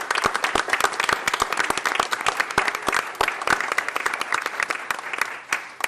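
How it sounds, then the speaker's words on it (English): Steady, crisp clapping from the attendees at a Bristol, Tennessee city council meeting fills the room for several seconds, many hands at once in a dense, even round of applause with no talk over it. "Let's give a round of applause"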